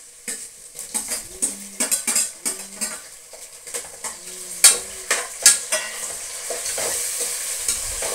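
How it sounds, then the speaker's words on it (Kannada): Tomatoes sizzle in a hot pressure cooker for pulao while a metal spoon scrapes and clinks against the pot in a quick irregular rhythm, close up, with the frying hiss swelling steadily underneath. "ಟೊಮೆಟೊ ಚೆನ್ನಾಗಿ ಫ್ರೈ ಆಗಲಿ ಸ್ವಲ್ಪ ಹೊತ್ತು."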